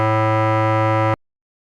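A looped clarinet sample, instrument 19 from a video game, holds one steady synthetic reedy tone for about a second before stopping dead into silence.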